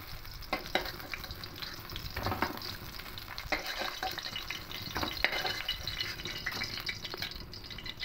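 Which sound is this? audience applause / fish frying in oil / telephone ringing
fish frying in oil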